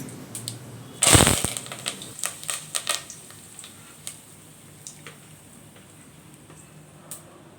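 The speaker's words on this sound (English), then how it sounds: "After heat the oil, sprinkle the mustard seeds into the heated oil." Mustard seeds and curry leaves spluttering in hot oil for a raw mango pickle: a sharp burst of crackling followed by scattered quiet pops and ticks, fading to sparse crackles.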